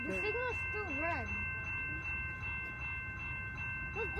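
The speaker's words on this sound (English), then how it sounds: "But the train is leaving." An EXO commuter train pulling away from a station platform: a steady low rumble of rolling cars, with voices rising and falling above it.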